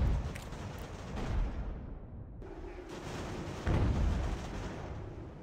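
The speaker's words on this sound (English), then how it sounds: "Cannon have opened fire on us." Cannon artillery fires in the American Revolution battle game Ultimate General: American Revolution, with several fairly quiet booming blasts in quick succession and rumbling decay between them.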